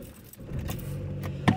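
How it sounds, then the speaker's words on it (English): Keys jangle as a car is moved, a low engine rumble building and holding under a close rattle of keys, ending in a brief louder knock, with no talk. "Oh, okay, I'm moving my car."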